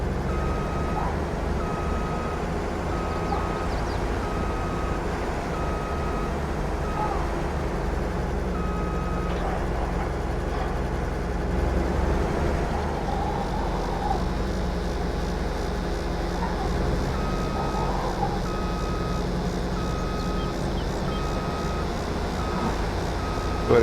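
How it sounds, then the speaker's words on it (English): A video-game truck reversing a trailer sends out a steady, evenly spaced series of reversing beeps over a constant low engine drone, with shifts in the engine tone partway through. "let me see if I can reverse the trailer"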